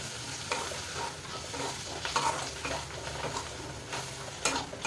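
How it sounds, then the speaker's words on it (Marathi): Brain fry masala with coriander is stirred and sautéed in oil in a pan over the heat, giving a steady soft sizzle with scraping spoon strokes and occasional clinks against the pan, close and moderately loud. "हे सुद्धा 1-2 मिनिटं तरी चांगलं परतून घ्यायचं."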